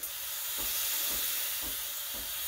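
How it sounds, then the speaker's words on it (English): Steam wand on a Breville Barista Express espresso machine steaming milk, a loud continuous hiss with soft rhythmic gurgling pulses underneath, close up and heard alone. "You can start steaming the milk once you start hearing the"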